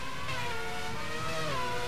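Formula racing car engines in a sim racing video game, a steady high-pitched whine of several cars that rises and falls in pitch as they come into a chicane, continuous and fairly loud.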